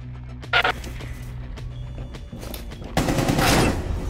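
Heavy automatic cannon fire from a BTR-80 armored vehicle's 30mm gun in a video game, a short burst followed by a louder, sustained rattling volley close by.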